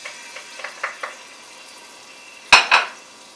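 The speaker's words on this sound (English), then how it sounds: "in our pot on medium heat, we have about 3 tablespoons of vegetable oil. We want to saute our garlic" Garlic sautéing in about three tablespoons of vegetable oil in a pot over medium heat, a faint sizzle with a few light utensil taps, then two louder metallic clanks near the end.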